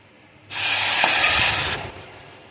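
Water poured into a pan with cracked cardamom, made ready for sugar syrup, brings a sudden close, loud hissing rush that holds for about a second before fading away.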